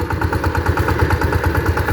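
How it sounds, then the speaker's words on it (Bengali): A Sifang 14 hp power tiller engine with 18 blades running close and loud, a steady, rapid chugging thump with metallic clatter throughout. "ইঞ্জিনের সাউন্ডটা আসলে অসাধারণ এখনো"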